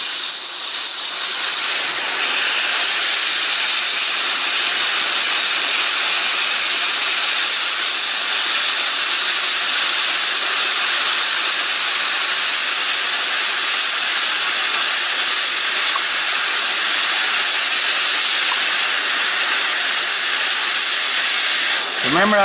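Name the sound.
welder melting and welding a bumper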